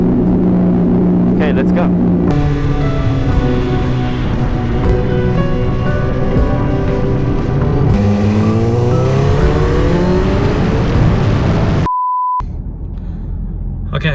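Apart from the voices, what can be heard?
Honda CBR 1000RR motorcycle engine starting and running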